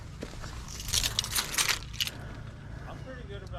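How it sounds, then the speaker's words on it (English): A bunch of keys being pulled out inside an off-road vehicle, jangling up close in a few short metallic bursts over a low background rumble. "Get my keys out of there."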